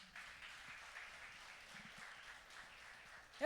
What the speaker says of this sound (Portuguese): Me aplauda ao Senhor.